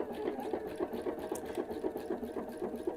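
A PFAFF sewing machine runs steadily as it stitches a decorative design, its needle thumping in a quick, even rhythm that is close and continuous throughout.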